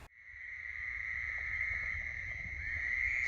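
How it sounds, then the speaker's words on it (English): A steady chorus of Fowler's toads and carpenter frogs, one sustained trilling drone with a faint higher buzz above, continuous and fairly loud, with a low rumble underneath. "So what you're hearing right now are Fowlers toads, carpenter frogs"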